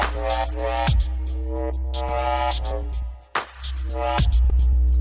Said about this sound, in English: I like that reverb a lot.